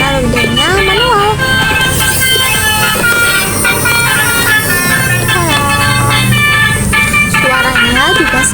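A toy Basuri bus horn plays a loud, continuous melodic honking tune over music for several seconds, with warbling pitch sweeps and no speech.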